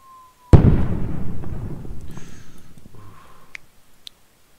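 A single loud bombing explosion in the WorldBox video game hits suddenly, then rumbles and crackles away over several seconds with a few faint pops and tones, and no voices.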